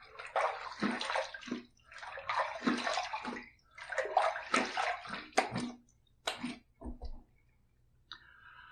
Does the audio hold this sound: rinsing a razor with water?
yes